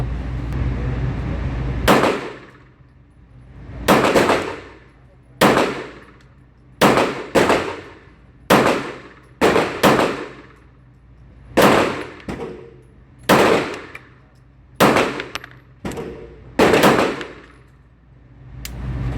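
Loud, sharp gunshots from a Staccato P pistol during a break-in range session, about twelve evenly spaced reports with short ringing decay, close up and with no talking.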